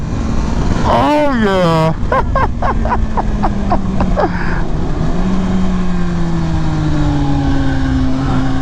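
A 2020 Kawasaki Ninja ZX14R revving hard through a turn, its engine note climbing and dropping with quick throttle blips and gear shifts, then settling into a steady loud drone, with a rider briefly exclaiming over it.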